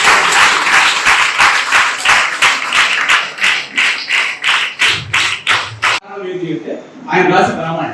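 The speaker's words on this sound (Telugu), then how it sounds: "ఆయనకి చప్పట్ల ద్వారా ధన్యవాదాలు తెలియజేయాలి." An audience breaks into brisk applause for an MLA at a public event, loud, close clapping that rises in waves before ending abruptly, followed by a voice speaking.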